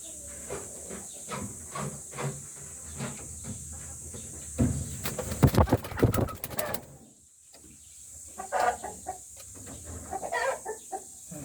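A Dekal Brown rooster, a crossbreed kept for breeding on a farm, gives short clucks and calls near and far, with a loud flurry of rustling or flapping midway and quieter clucking afterward.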